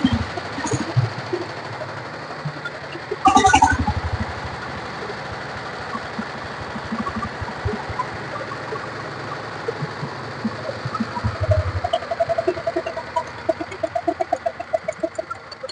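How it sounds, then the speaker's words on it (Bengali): A running second-hand power tiller engine idles with a steady low chugging throughout, and regular knocking pulses grow stronger near the end, while chickens cluck and a rooster calls nearby in the yard. "একদম রানিং পাওয়ার টিলার।"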